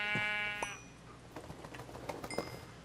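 Minecraft sheep bleating in a sheep-filled biome: a few distinct bleats near the start, then quieter scattered game sounds and soft clicks.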